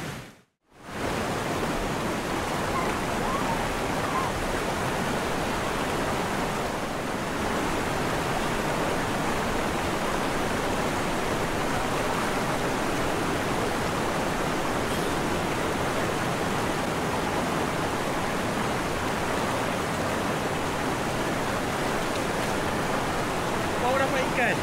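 A river rushes past a glamping site during heavy rain, a dense, loud, unbroken roar of water lasting the whole stretch with no pauses.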